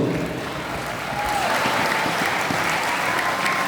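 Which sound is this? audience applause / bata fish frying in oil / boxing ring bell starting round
audience applause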